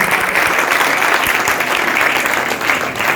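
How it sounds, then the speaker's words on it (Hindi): A loud, steady wash of dense applause from an audience cheering a young Khelo India athlete continues without pause throughout, close and bright, with no clear voice above it. "तो मैं इस लड़के के लिए भी चाहूंगा आप तालियां बजाएं।"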